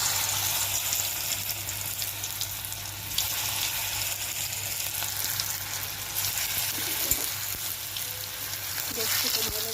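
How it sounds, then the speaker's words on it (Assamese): Raw banana pakoras sizzle in hot oil in a wok, a steady crackling hiss that runs unbroken with a low hum beneath and small clinks near the end. "কেৰাহীত তেল দি পকৰি যেনেকৈ বনায় তেনেকৈ মানে ভাজি পেলাব"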